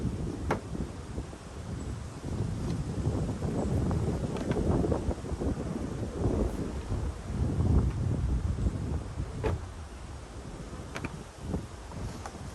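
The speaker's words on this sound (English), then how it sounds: "Cloudy and windy." Wind gusting and buffeting the microphone at a beekeeping apiary on a cloudy day, rising and falling in rough rushes with faint rustling, no speech.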